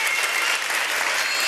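An audience at an iftar gathering claps together in a dense, steady burst of applause, loud and continuous without pause.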